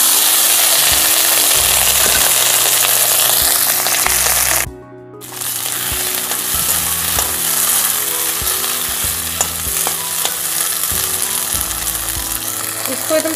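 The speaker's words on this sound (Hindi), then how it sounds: "मटर को फ्राई करते हुए 5 मिनट हो चुका है" Green peas fry with chopped green chili in a pan for chura matar. The loud, continuous close sizzle carries crackles and stirring scrapes, and it drops out for a moment partway through.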